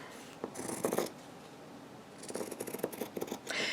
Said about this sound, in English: with my fabric scissors, I'm just going to cut that out